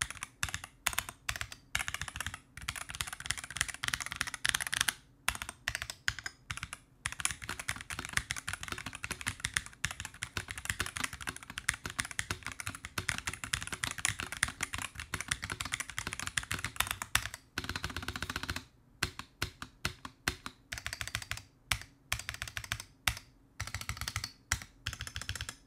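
Steady, fast clacking of a Razer mechanical gaming keyboard, continuous with brief pauses between bursts, close and moderately loud with no talking.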